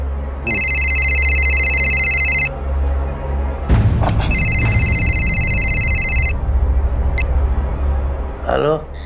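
A telephone rings in two long electronic bursts, each about two seconds, with a rumbling background and brief knocks between them.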